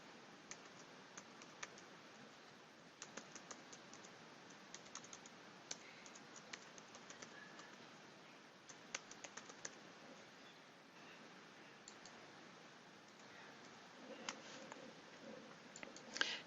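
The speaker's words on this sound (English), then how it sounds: "First I'm going to type some text in here." Faint, steady clicking of keys on a computer keyboard, irregular bursts of keystrokes scattered through a quiet room tone with no talking.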